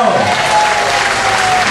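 Audience applause at a municipal election list meeting, a steady dense wash of clapping from a room full of people, loud and continuous throughout.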